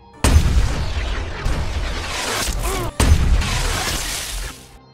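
Two loud gunshots ring out in an action film, each a sharp blast followed by a long, noisy, roaring decay, the second coming about three seconds after the first.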